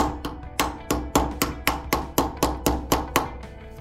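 A hammer drives a punch to seat an R3D 2.0 night sight into a 1911 pistol, making about a dozen sharp, loud metallic strikes in a fairly even rhythm, close up and alone.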